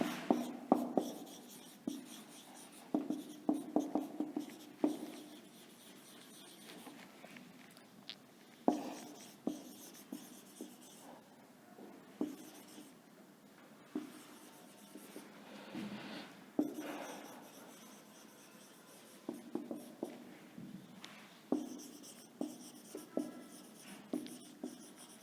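A teacher writing during an English lesson, irregular tapping and scraping strokes in clusters with pauses between, moderately close in a quiet room without speech.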